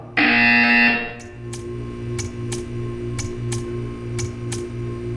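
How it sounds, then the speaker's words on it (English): A loud electronic buzzer in the video game Portal 2 sounds for about a second, followed by a steady ticking rhythm over a low hum. "You will hear a buzzer."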